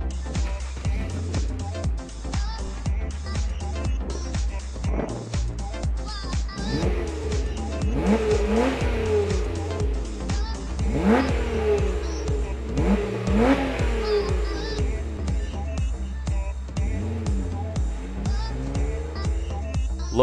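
A 2011 Lotus Evora with a mid-mounted 3.5-liter Toyota V6 and six-speed manual accelerates nearby, its engine note rising and falling through several revving pulls over a steady low rumble, with faint voices underneath.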